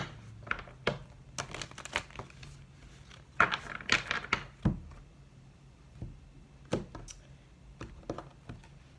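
Irregular crisp flicks and soft slaps of tarot cards being shuffled, several bursts over a quiet background, close and fairly faint.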